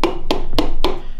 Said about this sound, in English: with the butt of the hammer just slightly tap away